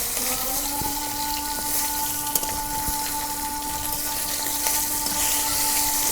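Fish sizzles in hot oil with a constant crackling hiss, occasional sharp pops, and a faint steady hum underneath.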